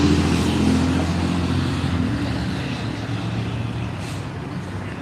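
A truck rumbles along a downtown Austin street, a loud, continuous low engine roar mixed with broad traffic noise that eases slightly as it moves on.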